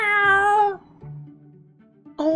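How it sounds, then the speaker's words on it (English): A vampire kitten in the story game Choices: Stories You Play, Blades of Light and Shadow, meows clearly and close up twice, a long drawn-out meow followed by a short one after a quiet gap. "revealing... A vampire kitty?"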